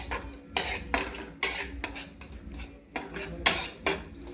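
A spoon scraping and clinking against a pan while ingredients for pasta are mixed with tomato ketchup, a series of sharp rhythmic scrapes and taps, close and moderately loud, no talking.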